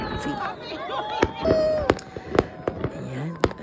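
Fireworks burst in sharp, loud cracks and pops at an outdoor sky lantern release, with whistling trails and a crowd murmuring and calling out beneath.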